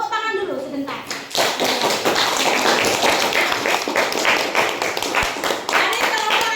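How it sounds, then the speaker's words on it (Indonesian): Children in a classroom clap together for a classmate's group presentation, a quick burst of many overlapping hand claps right after a teacher's brief spoken prompt, close and lively. "Tepuk tangan dulu sebentar."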